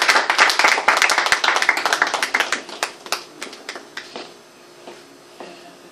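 A small audience claps for an author introduced at a book presentation, a brisk burst of hand claps that thins into scattered individual claps and dies away after a few seconds.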